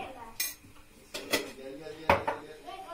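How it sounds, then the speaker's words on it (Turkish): A spoon clinks and scrapes against a bowl as lentil kofte mixture is stirred, with several distinct knocks close by and some soft talk between them. "Karıştıracağım. Karıştırdıktan sonra bakacağım tuzuna."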